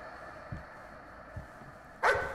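A painting barks like a dog in the horror game Layers of Fear VR, with two soft low thumps and then one louder, sharper bark near the end over a steady low hum.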